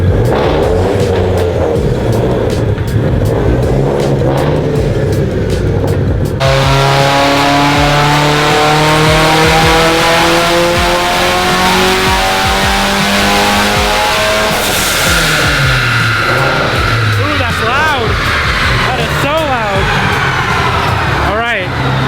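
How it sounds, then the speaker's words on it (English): A Mitsubishi Evo X on a dyno makes its first pull on pump gas. The engine drones loudly and continuously, then climbs in pitch through a long rising rev. Near the end it drops off and flutters before revving up again. "Just got on the dyno, first pull on pump gas."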